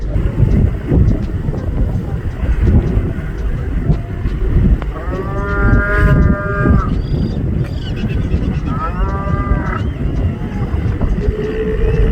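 Sea lions bellow at a tour boat off an island near Ushuaia, giving deep, drawn-out moaning calls in a few bursts over the boat's constant engine rumble and wind.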